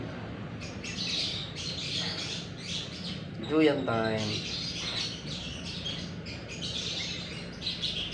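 Birds chirp and call faintly in the background while a person talks over them, with a brief louder squawk in the middle.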